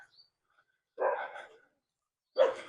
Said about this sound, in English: we've got a dog chorus now